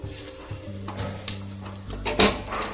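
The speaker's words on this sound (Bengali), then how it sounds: "তেলটা গরম হয়ে গেছে এর মধ্যে দিয়ে দেবো আমি সামান্য পরিমাণ একটু পাঁচ ফোড়ন" Panch phoron spices hitting hot oil give a soft, crackling sizzle with a few sharp pops, while a low steady hum from the kitchen runs underneath. The sizzle swells briefly near the end, close and moderately quiet.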